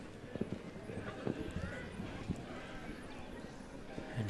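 Hooves of a small show jumping horse clop in an uneven rhythm on an arena course, moderately close, while a commentator talks over them.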